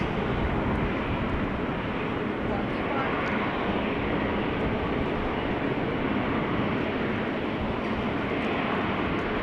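Steady, loud broadband roar of airliners at Amsterdam Schiphol Airport, a continuous engine rumble filling the whole stretch with no pauses and no talk.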